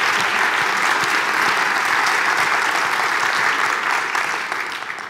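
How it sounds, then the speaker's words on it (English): Audience applause for the Mosaic Dance Company at the Folsom Lake College 10th Anniversary: a dense, loud wash of many hands clapping continuously, tapering off near the end. "another round of applause, please, for Mosaic Dance Company under Professor Debbie Werk"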